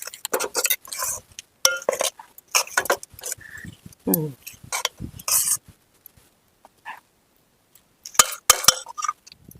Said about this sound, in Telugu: స్టవ్ వెలిగించాము మళ్ళీ గిన్నె పెడుతున్నాం